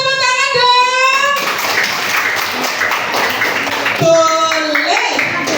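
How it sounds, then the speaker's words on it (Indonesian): Classroom children clap their hands together in a burst of mixed, overlapping claps, with young voices chattering and a teacher's voice over the top before and after. "Betul, tepuk tangan dong."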